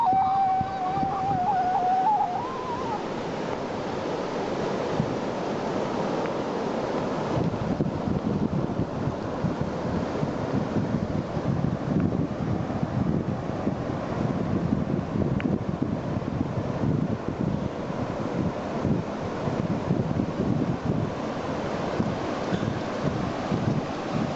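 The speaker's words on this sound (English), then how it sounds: "I can see the ocean." Ocean waves and wind on the Costa Rican coast make a steady, loud rush that keeps going throughout, with heavy wind buffeting and a brief tonal sound at the start.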